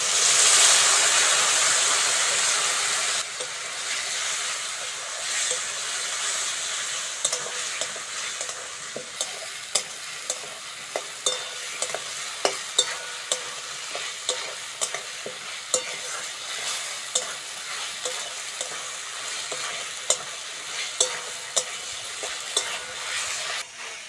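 Potato and onion stir-fried with ginger-garlic paste, green chilli and ground spices, a steady sizzle in the pan broken by frequent sharp scrapes and taps of a spatula, loud at first, then settling lower.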